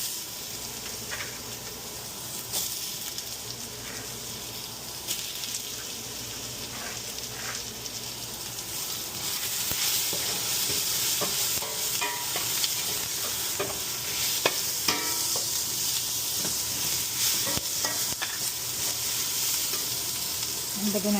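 Garlic and ginger sizzle and fry in hot oil for a chicken tinola, a steady close crackling hiss with frequent scraping stirs, no talking over it.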